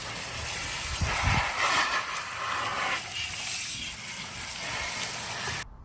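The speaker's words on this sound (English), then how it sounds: "hitting it with a hose and rinsing" A garden hose rinses an Aiper Scuba X1 Pro Max pool robot, giving a steady, close, broadband watery hiss with a slightly stronger surge early on, then cutting off abruptly at the end.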